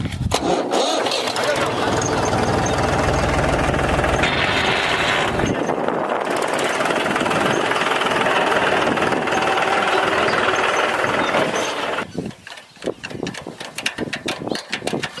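A tractor engine runs loud and steady for about twelve seconds, then cuts off, leaving irregular rattles and knocks behind.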